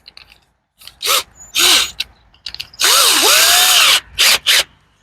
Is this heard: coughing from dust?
no